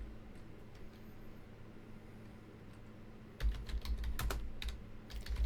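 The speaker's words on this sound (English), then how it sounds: "Here, I'll type it again." Typing on a computer keyboard during an aquarium livestream: rapid clicking keystrokes, quiet and sparse at first, then a denser, louder burst of taps over a steady background hiss.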